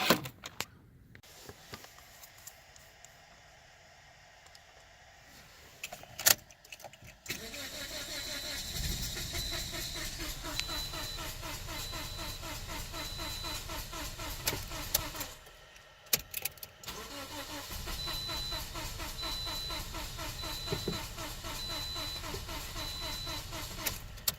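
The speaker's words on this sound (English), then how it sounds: "we're gonna start the engine" A 2009 Toyota Corolla with a no-start or long-crank fault on hot restart cranks and catches, then settles into a steady idle. There is a brief pause and a second crank, and the engine noise stays moderately loud and close.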